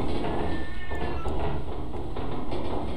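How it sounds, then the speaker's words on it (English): A cat meows and caterwauls in the Lethal Company game, a drawn-out cry heard amid dense, loud ambient game noise. "I just heard a, a cat."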